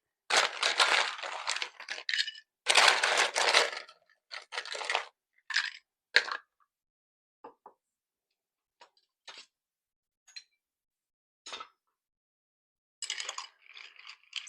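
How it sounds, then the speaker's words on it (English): Ice rattles and clinks in a mixing glass while a Manhattan cocktail is stirred, arriving as loud clustered bursts at first and thinning into sparse, brief ticks and clicks. "we are going to put a good amount of ice in here, and we're going to stir this guy for about 25 to 30 seconds"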